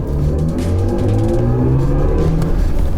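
Synthetic acceleration sound of a BMW iX M60 electric SUV, composed by Hans Zimmer: loud, sustained layered tones that swell and shift steadily for the whole stretch, with no talking.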